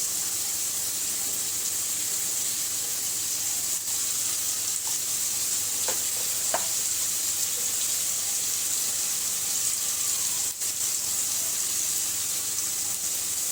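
Chili powder fries in a hot pan with a steady, close hiss and sizzle. A few soft clicks and scrapes come through over the constant crackle.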